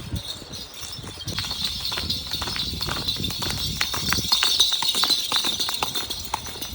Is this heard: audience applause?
no